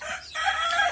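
Ayam ketawa chicks about eleven days old cheep and cluck close by, a short rising call followed by a brief run of soft chirps.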